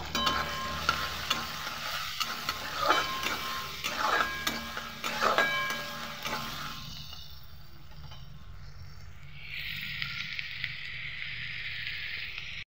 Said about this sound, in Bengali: অল্প কালো জিরে দিয়েছি, তার মধ্যে দিয়ে দেবো এখানে পেঁয়াজ। এটা একটাই পেঁয়াজ, একটু বড় সাইজের, দিয়ে আমি ভেজে নেব।